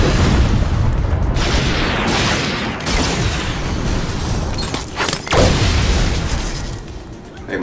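Heavy booming blasts and rolling explosive bursts from a ground pound attack in a Star Wars battle game against the Third Sister Reva, loud and continuous, with a sharp impact near the middle.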